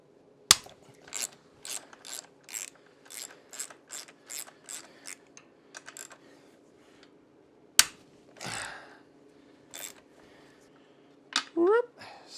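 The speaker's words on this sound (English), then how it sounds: "We're just going to take these bolts out of here." A 1/2 inch wrench ratchets out motorcycle primary chain tensioner bolts, giving a series of quick, close metallic clicks in steady bursts with a few sharper clanks between them, while someone talks quietly.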